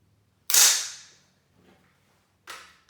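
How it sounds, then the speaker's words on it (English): AR-15 rifle bolt snapping closed during malfunction clearing practice, a sharp metallic clack followed by a faint rattle and a second lighter click, close and isolated. "I'm going to close the bolt,"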